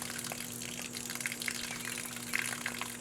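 Excess water being poured off homemade clay slurry during clay extraction, a steady continuous gushing and trickling of liquid, close and alone with no talk over it.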